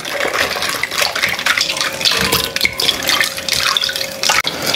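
Cold water poured into a bowl of homemade Spam luncheon meat mixture made with fish sauce, a steady splashing trickle running throughout at close range.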